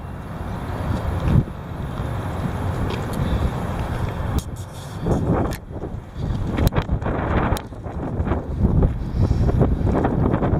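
Heavy wind buffeting outdoors, a loud continuous low roar with gusty surges and sharp rattling knocks, close and alone with no voices.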